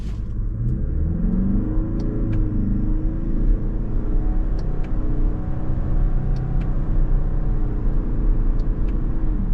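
A 2025 Toyota Crown Signia Limited wagon with a CVT accelerates in sport mode, its engine droning steadily and smoothly from inside the cabin, rising without distinct gear shifts over a continuous low rumble.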